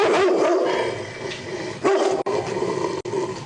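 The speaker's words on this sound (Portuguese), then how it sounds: "o Rottweiler estava solto e nervoso" A loose, agitated Rottweiler barks loudly and close in repeated gruff bursts, with brief gaps between outbursts and no talking.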